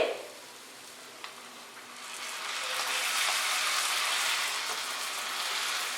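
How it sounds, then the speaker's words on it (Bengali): Tomato puree goes into spice masala frying in a pan for a paneer dish. A quiet background hiss swells into a steady, broad sizzle partway through. "এবারে আমি এর মধ্যে দিয়ে দিচ্ছি টমেটো পিউরি।"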